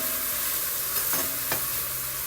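Garlic and onion frying in a pan, a steady close sizzle with a few brief scrapes of stirring partway through and no talking.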